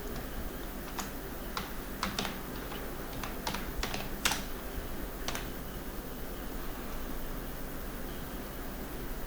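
Quiet, irregular keystrokes on a computer keyboard while text is being typed into an MS Word resume, with bursts of clicks and pauses over a faint steady hiss.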